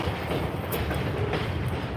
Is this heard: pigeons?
no